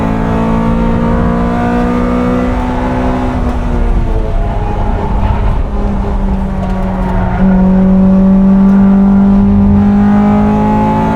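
A Honda Civic Type R EK9 engine at the Nürburgring, heard from inside the car as a loud, continuous high-revving drone that climbs and shifts pitch through the gears, with no voices over it.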